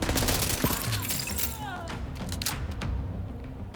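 Machine gun fire in Tom Clancy's The Division 2, Warlords of New York expansion: several sharp, fairly close bursts and thumps over a dense, steady backdrop of in-game battle noise.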